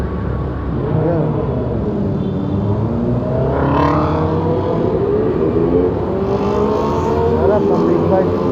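A big bike motorcycle rides by along EDSA in busy Manila traffic, its engine rising and sweeping past over steady road noise, with people talking throughout.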